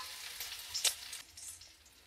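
Finely chopped garlic and grated ginger frying lightly in a pan, a soft steady sizzle with one brief louder crackle or stir near the middle, and no voices.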